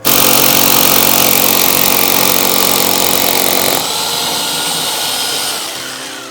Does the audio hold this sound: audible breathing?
no